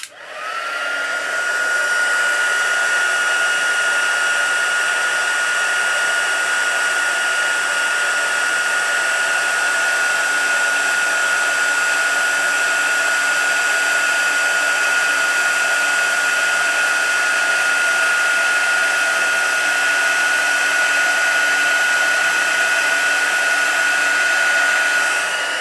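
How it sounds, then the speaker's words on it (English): A heat tool blows steadily for heat embossing a gold forest bauble design in a papercraft stamping session, a loud, continuous close-up whoosh with a faint high whine, running alone without talk. "When you do heat embossing, just go over it slowly, and as soon as you see it turn, move on to the next bit."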